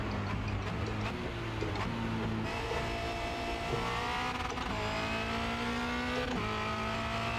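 A Formula Renault 2.0 race car on the Charlotte Motor Speedway Roval, engine droning steadily from onboard, pitch falling under braking with downshift blips and then climbing again as it accelerates out of a turn.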